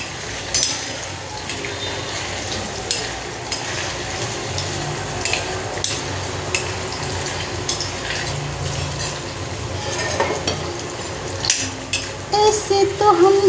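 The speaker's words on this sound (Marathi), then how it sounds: "तेलात तळून घेतले की मटार आणि पनीर" Green peas and paneer fry in hot oil for a quick matar paneer gravy, giving a steady, close sizzle throughout with stirring and occasional clinks of a spoon against the pan.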